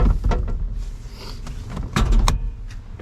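Power windows of a 1989 Toyota 4x4 rolling up and down, a short motorized whir with clunks and thumps near the end, close and fairly loud.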